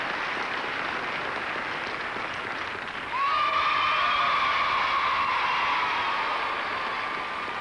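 Crowd at a 1984 international rhythmic gymnastics competition breaks into a loud, sustained cheer and applause partway through, swelling suddenly and holding steady in a large arena.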